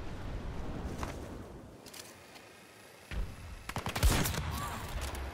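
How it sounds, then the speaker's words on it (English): Battlefield 2042 gunfire: scattered distant shots early, then a sharper burst of rapid close shooting near the end, with no talking. "Who else is shooting?"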